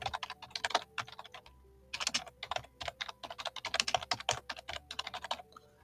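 Someone types on a computer keyboard to rename a workflow node, quick close clicking keystrokes in irregular bursts with brief pauses, alone in a quiet room.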